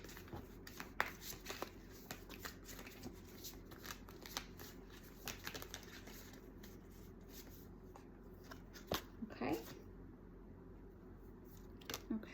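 Tarot deck being shuffled, a run of crisp riffling and flicking card sounds in irregular bursts, close and soft against a quiet room.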